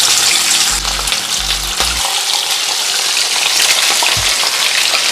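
Fish frying in hot oil with garlic in a pot for Jamaican brown stew fish, a loud, steady hiss and crackle up close, with a few low thumps near the start.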